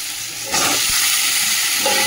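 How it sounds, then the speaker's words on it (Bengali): Onions and potatoes are added to a hot pan and begin to fry. A quieter start jumps into a loud, steady hissing sizzle that continues without break. "পেঁয়াজ আলু ভাজা হোক"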